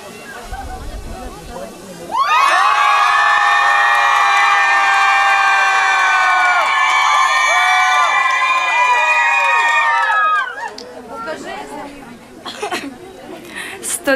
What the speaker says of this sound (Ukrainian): Коли я руку піднімлю до гори, ви кричите